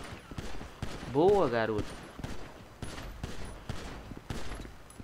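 Gunfire in the video game GTA V: rapid, repeated sharp shots pop through the whole stretch, mixed under excited Portuguese-speaking voices.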